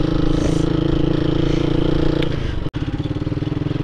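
A motorcycle engine runs with a faulty knocking noise, a close, rough, throbbing rumble with fast rhythmic pulses. It briefly cuts out with a sharp drop before resuming its steady pulsing beat.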